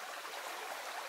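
Stream water tumbling off Hay Bluff and the surrounding hills, a steady bright rushing hiss of flowing water, close and continuous with no voices.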